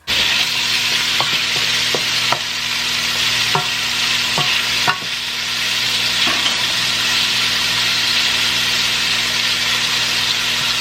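Hot olive oil in a heated pot gives a loud, steady frying hiss, with a few sharp clicks and taps of a utensil against the pot early on and no talking.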